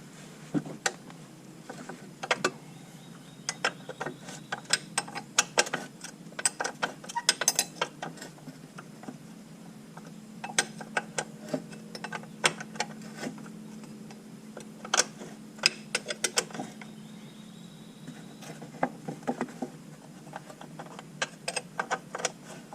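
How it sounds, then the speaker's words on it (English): A wrench works on a bolt on the front A-arm of a Polaris Sportsman 500 ATV during a bushing replacement. Sharp metallic clicks and ratchet-like ticks come in irregular bursts, close and moderately loud, with no talking. "The limited room, we'll have to use a wrench for this one."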